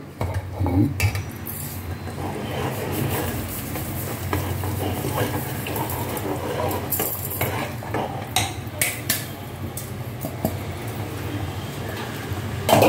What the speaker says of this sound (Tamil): இப்போ இந்த மாவை போட்டுக்கிறேன்.